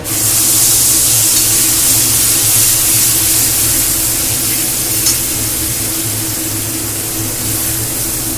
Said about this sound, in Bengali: এবার তিলটাই কিন্তু আমরা ভালো করে তেলের সঙ্গে কষে নেব।